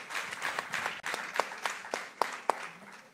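A conference audience at a professional development plenary session claps in a scattered, uneven patter of distinct hand claps, fairly faint and brief, with no talk.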